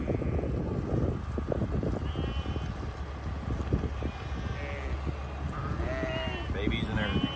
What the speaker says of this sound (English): they're putting a bunch of sheep out here